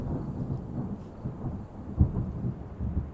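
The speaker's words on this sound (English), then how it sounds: "That was such a cool clap of thunder." Deep, rolling thunder in the video game Terra Nil rumbles through steady rain, with a heavier low boom about two-thirds of the way in; no voices.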